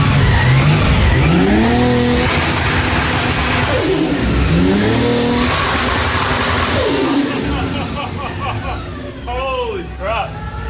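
Nissan Skyline R32 engine revving hard with anti-lag, loud rising and falling revs with sharp pops and crackles repeating across the clip, close by with people talking over it.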